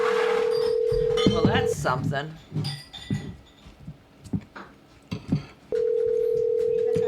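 A telephone's steady electronic ring tone sounds at the start and again at the end, with people chatting in between over light clinks.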